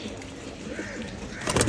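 Pigeons kept at home cooing softly and close by over a busy background hum, the calls blending into a brief, low murmur that grows slightly louder at the end.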